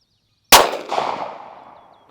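A single sharp shot from a Ruger LCP pistol fired at targets, a loud close crack followed by a short ringing decay.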